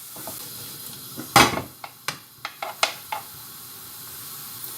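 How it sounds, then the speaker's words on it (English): Mushrooms cooking in a frying pan, stirred with a utensil: a soft background sizzle broken by a cluster of sharp scraping clicks and taps against the pan, close and fairly quiet. "We'll keep giving them a stir so they don't stick to the bottom of the pan."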